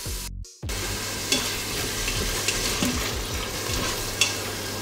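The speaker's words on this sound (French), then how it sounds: "On va faire revenir nos lardons." Lardons, or chopped pancetta, fry in an Instant Pot with a steady, close sizzle that stays loud throughout, broken by occasional stirring scrapes after a brief silent gap at the start.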